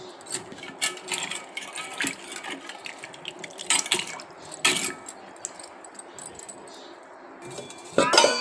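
Rice and sago being washed in water in a vessel, with gentle sloshing, clinking of grains and utensils against the pot, and intermittent splashes, faint and close with a louder pour near the end.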